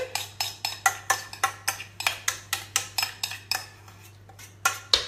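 Dry granola ingredients such as nuts, coconut and seeds tipped into a mixing bowl, giving a quick series of crisp clattering ticks in steady rhythm, close and clear, followed by a short pause and a few final clinks.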